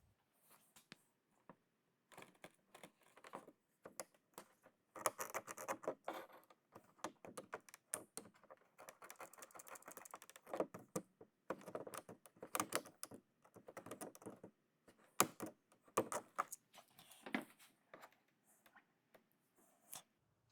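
Door webbing being cut out of an OBS Ford door during a door repair, a series of quiet irregular snips and clicks with short pauses between them.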